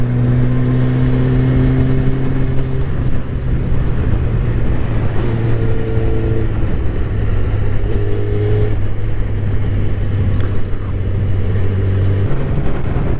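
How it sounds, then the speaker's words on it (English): A Yamaha FZ1N motorcycle fitted with a GPR Ghisa exhaust idles loudly close to the microphone, with several short revs and crackling pops rising above the steady engine drone. "who doesn't love those pops and barbels that are coming out the back?"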